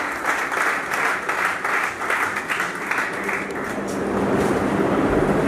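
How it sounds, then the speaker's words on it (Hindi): Audience applause at a welfare organization's oath-taking ceremony, a dense, steady clapping from a crowd that continues throughout with no speech. "आपकी भरपूर तालियों में असिस्टेंट कमिश्नर फैसल सुल्तान साहब"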